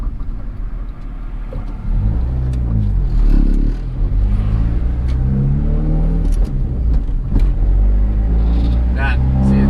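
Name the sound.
turbo Honda Accord banging into gear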